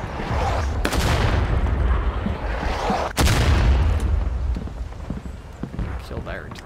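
Artillery explosions in the Civil War game War of Rights, two heavy booms a couple of seconds apart over a constant rumbling din of battle, with someone talking over them.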